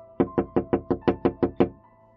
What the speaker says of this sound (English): Then, I heard a knock on the basement window.